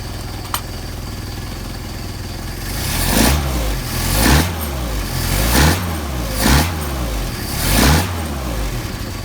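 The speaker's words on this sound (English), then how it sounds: "So we'll keep it at a low idle just for fun. Probably running about 500, 600 RPM." Mercedes 190SL engine with Solex carburetors at a low idle, then blipped in four or five regular revs that rise and fall back to a steady loud rumble, close by with no speech.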